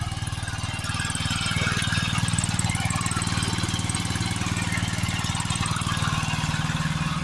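Engine of a pesticide sprayer mounted on a vehicle with a 500-litre tank, used for spraying date palms; a loud, steady, rapidly pulsing small-engine drone running close by throughout.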